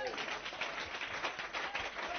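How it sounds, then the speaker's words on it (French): A church congregation stands and claps in praise, a dense, sustained patter of hands with voices mixed in beneath the clapping. "On se peut se tenir debout pour donner une puissante main d'acclamation au Seigneur."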